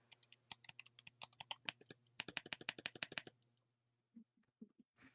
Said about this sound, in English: that has like the loudest switches I've ever seen on a keyboard